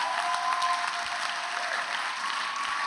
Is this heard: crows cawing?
no